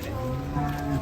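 A rare, agitated cow being unloaded from a truck lows steadily, its drawn-out, close moo holding for the whole moment without breaking.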